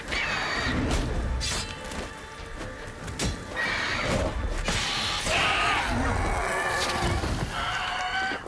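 A horse in The Witcher 3 video game whinnies loudly, with several neighs and snorts mixed with thuds and hoof clatter.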